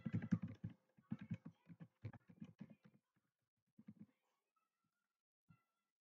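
Typing on a computer keyboard while filling in an online village property-tax payment form, heard as quiet bursts of rapid key clicks with short pauses in between, fading to a few isolated taps.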